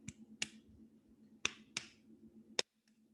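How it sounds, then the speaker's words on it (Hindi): Sharp single claps are struck in an uneven rhythm, soft and loud alternating, five crisp near hits spaced across a few seconds over a faint background hum. "जब मैं इस तरह से ताली बजा रहा हूं,"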